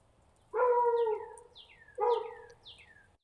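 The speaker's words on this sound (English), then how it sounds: "the neighbor's dogs are out howling" Neighbouring dogs howl outdoors at night, two long wavering howls a second or so apart, each trailing into higher yips, fairly faint against a quiet background.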